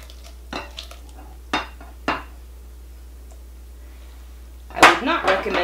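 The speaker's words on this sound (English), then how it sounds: "Now we can fold in our veg." Vegetables being folded into a whisked egg mixture for a spinach and mushroom quiche, heard as a few brief utensil scrapes and clinks against a bowl with quiet gaps between them, then a louder cluster of bowl knocks near the end.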